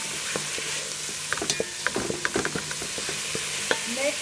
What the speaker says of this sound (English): A bit of rice and give it a stir.